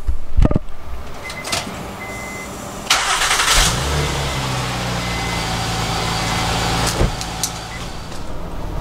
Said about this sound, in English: let me give you guys a cold start. Everyone loves a Pilot cold start.